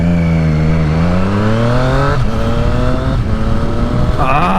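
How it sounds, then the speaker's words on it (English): A Triumph Street Triple R sports motorcycle engine revving through rising gear pulls, its pitch climbing, dropping at each shift and climbing again, loud and close as the bike accelerates, with no speech over it. "Oh, this good old narrow sports bike."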